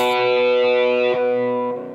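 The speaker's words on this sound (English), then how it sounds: "throws the distortion on, and it's like, it's this octave shape." Distorted electric guitar plays a sustained octave-shape riff, thick and loud with effects, ringing steadily before fading slightly at the end.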